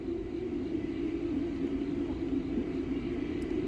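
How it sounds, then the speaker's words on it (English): A deep, steady rumble comes from the sky on a Sunday morning, continuous and even, like distant wind or far-off engine noise, with no pauses. "It's the prophetic sound of wind from the sky"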